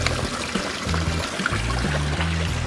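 Water is poured to top off a low garden pond, giving a continuous splashing pour with gurgling, bubbly notes close to the microphone.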